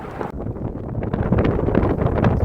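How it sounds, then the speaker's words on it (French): Strong wind buffets a Normandy clifftop, roaring steadily into the microphone with gusty rumble and rising intensity, alone without voices. "Bord de falaise, on sent le vent."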